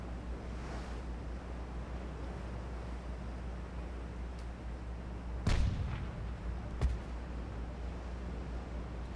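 Naval guns firing in the warship game Ultimate Admirals Dreadnoughts, with two distant booms standing out over a steady rumble of sea and wind.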